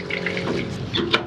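Drinking water runs from a boat's tap fed by a tank pump, a steady close splashing flow with a brief louder gush near the end and no talk over it.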